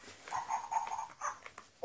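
Interactive toy puppy sounding a string of short electronic yips and whimpers in quick bursts, close and fairly clear, with no talk over it.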